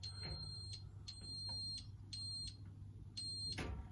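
Apollo XP95 fire alarm system pre-alarm sounder beeping in a house, high piercing electronic tones in four repeated bursts over a steady low hum, close and loud.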